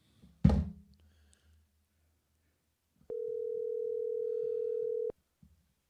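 A sharp thunk, a pause, then a steady electronic telephone tone sounds for about two seconds during a phone call, followed by faint background clicks.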